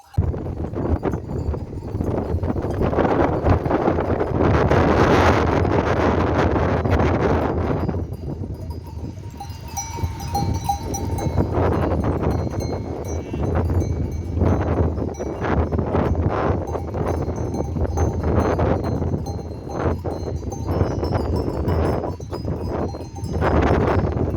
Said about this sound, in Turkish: Hışırtıdan da anlayacağınız gibi bugün sabahtan beri fena bir rüzgar var.